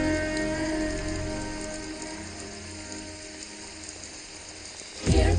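Steady rain falls and patters on surfaces, a continuous dense hiss with faint clicking texture and a brief louder swell near the end, with no talk.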